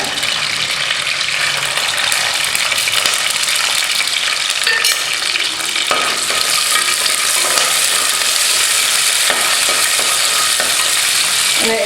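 Mustard seeds, fennel, garlic and curry leaves sizzling in hot oil for chicken chukka, giving a loud, dense, continuous crackle and hiss close by with occasional stirring scrapes.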